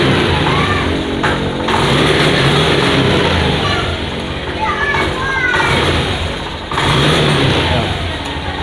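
Engine of a Honda Genio scooter sputters and stutters as the throttle is snapped open, revving loud and close while children play and talk in the background.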